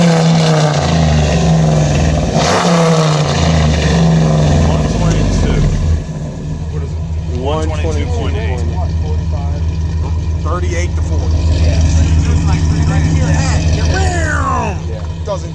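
A cammed Ram Hemi's exhaust revs loudly at close range, holding a deep, continuous rumbling drone that swells and settles while people talk over it.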